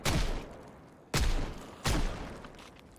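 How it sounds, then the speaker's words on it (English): Three heavy gunshots in the zombie survival game Project Zomboid, spaced about a second apart, each a sharp loud blast with a long fading tail, with no talking. "Can you hear my gunshots?"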